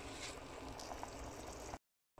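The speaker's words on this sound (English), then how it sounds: "I'm going to leave it there simmering until the thing is cooked" Meat simmering in a covered pot for Nigerian banga soup, a soft steady bubbling and hiss close by that cuts out briefly near the end.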